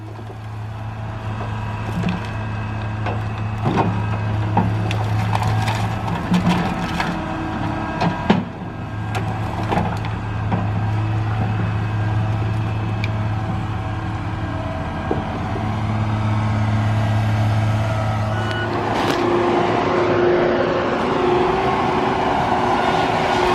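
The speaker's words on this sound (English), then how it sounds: "So we're gonna watch this A43L John Deere run for a little bit." John Deere A43L logging machine at work in a forest: loud steady diesel drone that rises and falls, with scattered cracks and snaps of wood being cut and handled, no voices.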